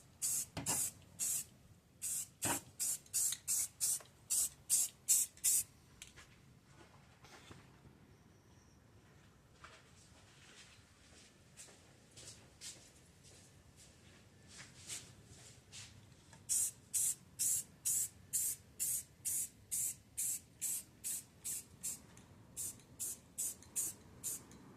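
A spray gun lays a coating onto a Jeep Wrangler in quick rhythmic hissing bursts, a long run of short sprays, a quiet pause, then another steady series, close and fairly loud.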